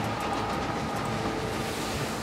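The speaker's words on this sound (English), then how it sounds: "I guess we can launch from the train." A train in the Gears of War 5 video game gives off a steady rumbling, rolling drone with no breaks, heard close and continuous.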